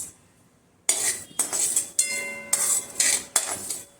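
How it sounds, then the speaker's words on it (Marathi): Poppy seeds are roasted in a pan over a low flame, with a metal spoon stirring and scraping against the pan in sharp, ringing strokes after a short quiet start, close and without speech. "प्रथम आपण जी ही खसखस आहे ती मंद आचेवर भाजून घेऊया."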